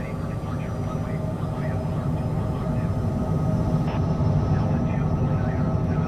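A simulated airliner's engines roar steadily at full takeoff throttle, a loud continuous broadband rumble with a slight rising whine, flaps set to 15 degrees, lasting throughout with no break.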